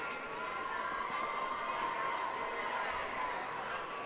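A crowd murmurs and cheers steadily at a high school state championship football game between Escambia Academy and the Generals, with scattered shouts and voices throughout.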